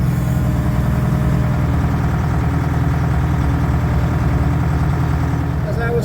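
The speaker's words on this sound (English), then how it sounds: "a backhoe is a wonderful machine, but it is not as good as an excavator" A backhoe engine idles steadily nearby with a constant low diesel rumble throughout, and a voice talks over it.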